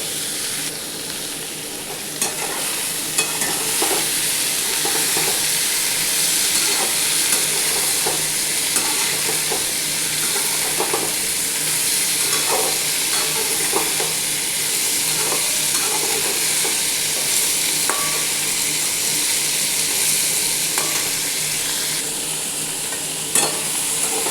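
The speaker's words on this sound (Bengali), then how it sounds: "এবার কুমড়োটা আর আলুটা বেশ কিছুক্ষণ ধরে একটু ভাজবো" Pumpkin and potato pieces fry in oil in a pan, a continuous sizzle broken by repeated scraping and stirring clicks from a spatula, close up and steady with no voices.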